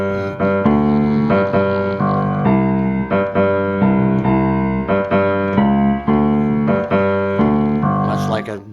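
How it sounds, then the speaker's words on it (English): A solo piano plays a syncopated bossa nova Latin bass line under full chords in a steady, repeating groove, loud and close, with no talking. "That's like a bossa nova bass line."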